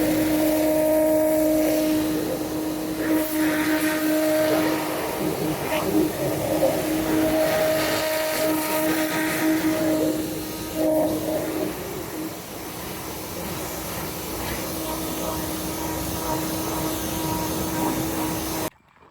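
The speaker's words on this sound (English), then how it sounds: "So now a turbo nozzle is actually a 0-degree tip, but the reason it doesn't cause damage is because it spins." An electric pressure washer spraying through a spinning turbo nozzle, a steady loud motor whine and hissing water jet that shifts in tone and dips partway through, with someone talking faintly underneath.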